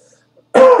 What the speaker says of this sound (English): Sorry, I've still got coughing from my allergy attack last week.